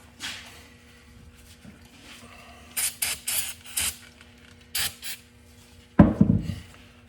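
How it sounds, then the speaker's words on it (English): Brake cleaner sprayed onto a rock picker wheel bearing: short hissing spray bursts in quick succession amid quiet handling and scraping noises, ending with a louder burst. "That's just a little brake clean just to get any of the last residue out of there."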